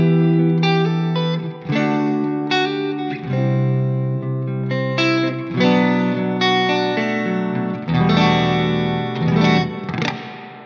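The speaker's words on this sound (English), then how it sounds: "So now it's going to emulate the many reflections of a big concert hall" Electric guitar played through a hall reverb effect emulating a big concert hall, a melodic line of sustained notes and chords with long, warm decaying tails, loud and alone without voices.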